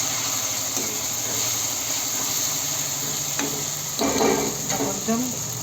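Salt being stirred into a dish frying in a pan, a loud continuous sizzle with occasional scraping and clinking of the spoon against the pan.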